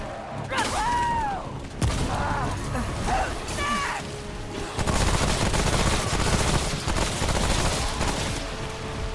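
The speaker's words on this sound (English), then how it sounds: "Hey, another Gatling gunner." Gatling gunner enemy in Remnant: From The Ashes spraying rapid, sustained gunfire amid dense game combat noise, loud and continuous with creaking mechanical clatter and strident tonal effects over the first seconds.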